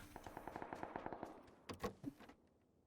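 Gunfire in PUBG Battlegrounds: a rapid, evenly spaced burst of automatic shots, then a few louder, sharper single cracks, all fairly quiet before the sound trails off.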